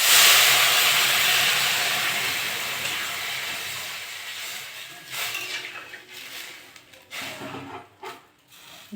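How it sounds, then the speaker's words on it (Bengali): Water poured over fried lentils in a hot pan for a raw mango dal bursts into a loud sizzling hiss that slowly fades, followed by a few sharp clatters of utensils. "আমি এবার জল দিয়ে দেবো।"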